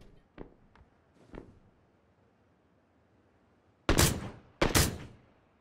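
Gunfire in PUBG: a few faint distant shots early on, then two loud, close, sharp cracks less than a second apart, with no talk over them.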